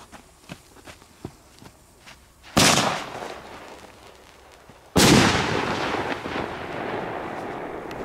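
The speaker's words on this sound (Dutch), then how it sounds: "Kometenbom gaan we ook even doen." Two loud comet bomb firework blasts boom a few seconds apart outdoors, each followed by a long crackling, hissing tail, with faint footsteps and clicks before the first.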